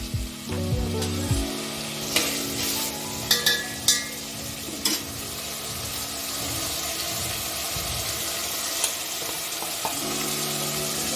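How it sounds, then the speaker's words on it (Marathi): Ground spice paste sizzles and fries in hot oil for a chicken gravy, with a steady close crackle and repeated scraping clatters of a spoon stirring it in the pan. "हे वाटलेलं वाटण आपलं तेल गरम झाले ना त्याच्यामध्ये टाकायचं, चांगलं हलवून घ्यायचं आपल्याला"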